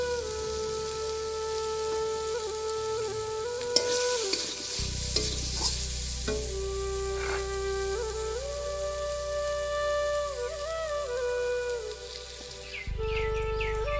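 Potatoes frying in a pan with salt and turmeric, a steady sizzle with stirring and scraping that grows louder and fuller partway through, heard alone without talk.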